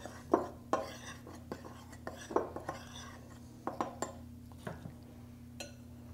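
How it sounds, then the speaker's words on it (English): A spoon stirs sugar and a pinch of salt together in a mixing bowl for a jam roly poly, giving a series of close, irregular clinks and taps against the bowl over a steady low hum. "I'm going to give that a mix together."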